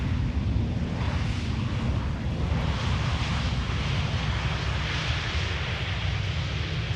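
A Delta Airlines airliner arriving at Amsterdam Schiphol airport roars with a steady, loud, broadband jet rumble that stays constant throughout, with no speech heard.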